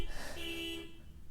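A single sustained car horn toot on a busy New York street, loud and close for under a second amid traffic background.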